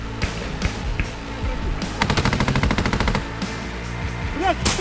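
Gunfire during an infantry assault on positions near Kreminna: single shots early on, then a rapid automatic burst, close and loud, with shouting voices around it.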